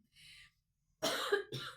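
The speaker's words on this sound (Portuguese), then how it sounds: "A gente tô com tosse" A woman indoors coughs close to the microphone: a soft first cough, then a pause, then two sharper, louder coughs in quick succession.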